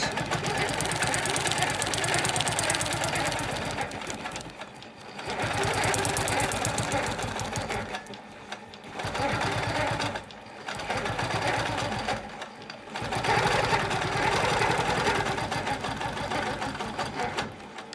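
A sewing machine quilting a wholecloth quilt stitches in a loud, steady, rapid chatter for long runs, broken by a few short pauses.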